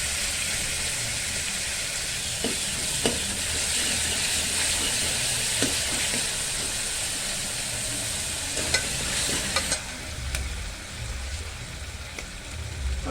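Ginger garlic paste sizzling in hot oil in a pan over low heat, a steady bright frying hiss with occasional stirring clinks and scrapes, close and continuous with no talking.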